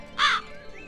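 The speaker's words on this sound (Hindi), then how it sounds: "और कौवा वहां से उड़ गया।" A single loud, harsh crow's caw rings out close by, brief and sharp, then fades into quiet background.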